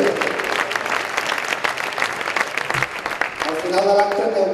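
Applause fills the room at the 60th anniversary celebration of Hoquei Club Piera, a hockey club, in 2021. The clapping is steady throughout, and a voice speaks over it near the end.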